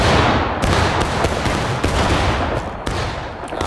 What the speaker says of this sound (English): they are already opening fire against their Union counterparts